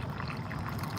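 Water from a garden hose pours onto a plant outdoors, a steady close splashing trickle that runs on without a break and with no talk over it.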